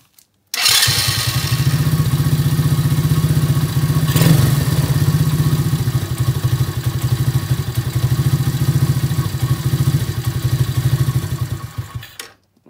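A 125 cc ATV engine cranks and fires after a carburetor mixture adjustment indoors, then runs loud and close at a fast, steady idle with rhythmic clattering for about twelve seconds before cutting off.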